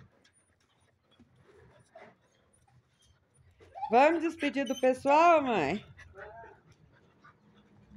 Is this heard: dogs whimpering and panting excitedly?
yes